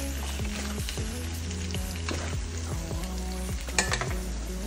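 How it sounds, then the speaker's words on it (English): Chicken sausage frying in a pan for fried rice, a steady close sizzle with repeated utensil scrapes and light knocks as the pieces are moved around, no voices. "I give it a little fry."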